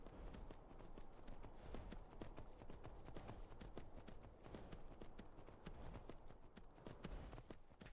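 Horse hooves clip-clop in a steady, brisk rhythm in the video game Skyrim, faint and continuous for several seconds, with no speech.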